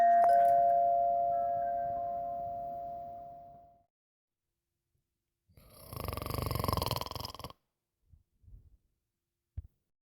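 An electric buzzer sounds one long steady tone for about four seconds, loud and close, then fades out. It is followed by a burst of rustling handling noise and a couple of faint knocks.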